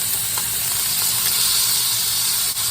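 Garlic sizzles steadily in a hot pan with a dense, even hiss that holds at close range for the whole stretch.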